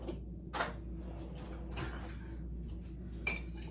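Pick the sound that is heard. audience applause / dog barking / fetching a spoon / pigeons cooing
fetching a spoon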